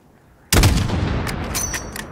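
A single loud sniper-style gunshot aimed at a long-range target about 600 meters away in Call of Duty Modern Warfare, a sharp crack followed by a long rolling echo and faint distant pops.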